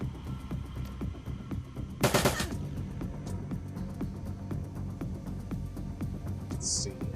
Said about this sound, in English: Glory, you can get in here and at least start shooting at them.